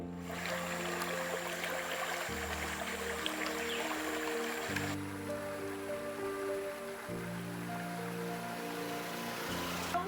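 Flowing spring water at a village source in Desa Potoya, a steady close rushing and splashing wash that continues evenly throughout with a faint underlying hum and no voices.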